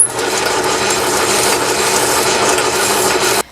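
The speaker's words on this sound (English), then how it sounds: "One last thing before we finish up with the lathe here, I'm going to turn it on and just shine this up ever so slightly" A lathe spins a 6-volt generator armature while its bushing end is polished, giving a steady close mechanical whir with a light rubbing, grinding texture that runs continuously and then cuts off abruptly.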